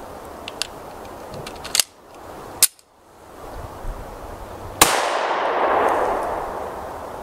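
Several 9mm pistol shots firing Grizzly 115 grain jacketed hollow point +P rounds at an outdoor ballistics test, each a sharp loud crack: one near 1.8 s, another at 2.6 s, and a final louder blast near 4.8 s with a lingering decaying roar.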